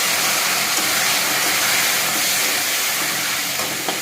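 Cumin, bay leaf and washed potatoes hitting hot oil, giving a steady, loud, bright sizzle that holds evenly for the whole stretch with no voices.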